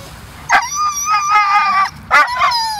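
At a beach, a dog throws a tantrum with high whining yips and howling barks in two bursts, loud and close over faint background noise.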